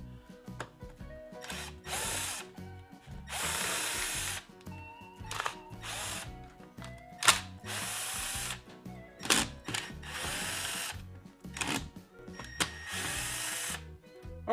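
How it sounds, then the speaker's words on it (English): Bursts of a power drill or driver backing screws out of a camera holding rig on a workbench, several whirring runs of a few seconds each with short ratcheting clicks between them, close and fairly loud, no talking. "we have a couple screws here that we need to get out of the way. So let's take those off real quick"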